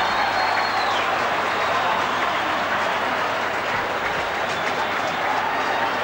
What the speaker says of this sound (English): The crowd delirious.